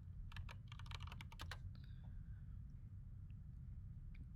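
Quick bursts of keystrokes on a computer keyboard during a drafting software session, a cluster of rapid clicks in the first second and a half, then a few scattered taps over quiet room noise.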